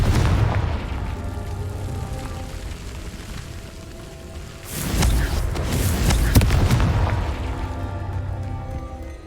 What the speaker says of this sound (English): Bombarda. Defender. Confringo.